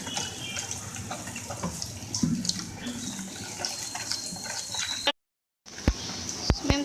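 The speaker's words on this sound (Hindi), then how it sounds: "हम जो है इसमें ऐड करेंगे वाटर।" Water poured from a tap-like stream into a bowl of bread pakora batter with crushed red chilies, a steady close splashing trickle running for about five seconds, a brief pause, then a few louder drips and clinks.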